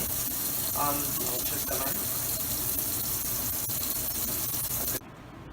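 Cold tap water running steadily into a sink while squash is peeled, a continuous close gushing splash with faint handling sounds and a voice underneath, cutting off near the end.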